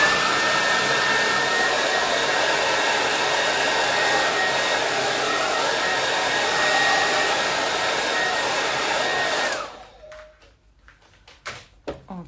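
A hair dryer blows steadily and loudly at close range for about ten seconds while drying a painting, then switches off, leaving faint handling knocks and taps.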